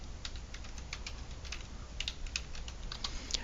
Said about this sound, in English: We're going to type blockchain.info.